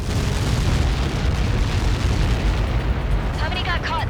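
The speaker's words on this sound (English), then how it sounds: "How many got caught in that explosion?" A huge missile impact explosion from Helios projectiles in the Ace Combat 7 flight game, a dense sustained roaring blast rumbling loud and steady for several seconds, with a brief radio voice crackling in near the end.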